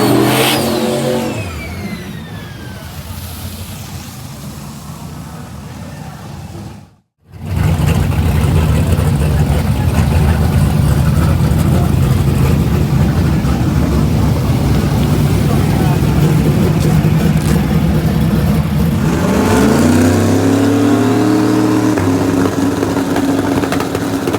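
A third-generation drag race car with an LS hydraulic roller engine makes a pass. The engine roars loud and sustained, cuts out briefly, then pulls hard again in a long full-throttle run before the pitch shifts near the end.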